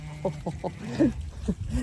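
Sheep on a farm give several short close bleats and grunts in quick succession, with a few longer calls following, among other animal noises.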